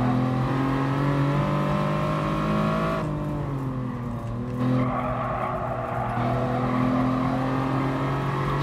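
Hyundai Genesis Coupe 3.8 engine in GT Sport, a loud, steady droning growl with strong harmonic tones that dips briefly as the car shifts, then climbs again as it accelerates, with no talk.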